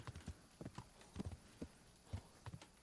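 Horse hooves clip-clop in the medieval video game Kingdom Come: Deliverance, with irregular clusters of soft, fairly quiet hoof strikes at a walking pace and no talk over them.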